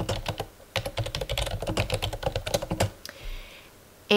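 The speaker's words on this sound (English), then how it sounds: "So I'm typing in my status update." Rapid close-up typing on a computer keyboard, a quick run of crisp key clicks that slows to a few presses near the end and stops, with no talking.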